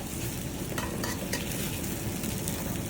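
Onion and cabbage fry in a very hot wok, a dense, steady sizzle that runs loud and close throughout, with a few brief clatters of stirring near the middle.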